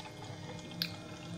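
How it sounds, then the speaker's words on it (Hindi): Water from a small fountain trickles and drips in a soft, quiet stream, with one brief brighter splash standing out over the steady flow. "water fountain"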